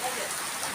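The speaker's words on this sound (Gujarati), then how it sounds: "જો તેજીથી વરસાદ આવે છે." Heavy summer rain pours down in a brief, steady, close hiss of dense drops striking surfaces.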